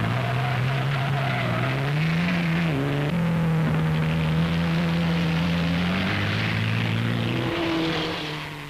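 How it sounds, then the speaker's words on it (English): 1930s supercharged Grand Prix race cars sweeping round a bend in a race, a loud, sustained engine drone whose pitch climbs and shifts as cars pass, fading slightly at the end. "Billy Cotton, number 18, finds the tempo pretty hot as he swings round the bend"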